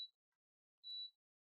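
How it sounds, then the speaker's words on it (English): Two short high electronic beeps from a kitchen appliance, spaced under a second apart, clear and isolated in an otherwise quiet room. "Sorry about the beeping."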